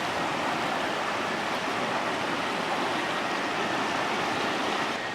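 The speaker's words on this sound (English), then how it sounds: "And there is this kind of flowing water everywhere." The Koiteli river rapids at Koitelinkoski in Finland rush in a steady, dense roar of flowing water, close and continuous without a break, with no voices.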